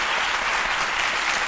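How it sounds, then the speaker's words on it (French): Dense, loud, continuous applause from a TV studio audience during a midday show, a steady wash of many hands clapping with no breaks. "Si vous êtes d'accord avec moi, applaudissez."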